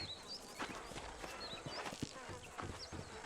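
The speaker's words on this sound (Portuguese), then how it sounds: "These are fine horses" Horse hooves clip-clop steadily in the Red Dead Redemption video game, with several animals walking at a moderate pace near the listener, occasional whinny-like cues, and a busy outdoor game soundscape underneath.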